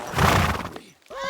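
A horse gives a short, loud, close whinny in Kingdom Come Deliverance 2, a brief neigh that cuts off quickly before other game sound resumes.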